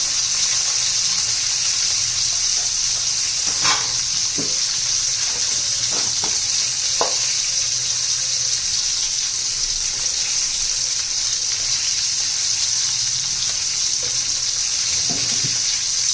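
Bitter gourd pieces fry in a pan, a steady hiss of sizzling oil close by with a few soft scrapes and knocks from stirring, and no talk.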